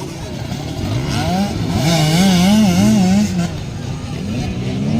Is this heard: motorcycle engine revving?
yes